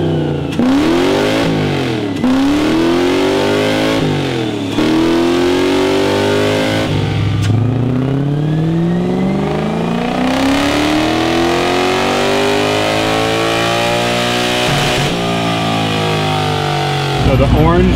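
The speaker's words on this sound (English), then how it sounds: "let me get the car warm, and then I'll do a pull." V8 drift truck engine on a dyno, revving up and down in repeated loud sweeps, then climbing in a long sustained pull, close and dominant throughout.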